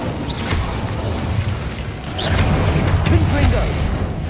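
Incendio fire spell cast in Hogwarts Legacy gameplay, a burst of whooshing flame and rumbling booms over continuous game noise, loud and close, with brief swishes of other spell effects.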